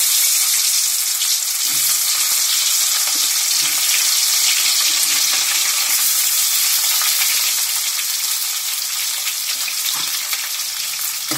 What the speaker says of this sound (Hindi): अब कटी हुई करी डाल देंगे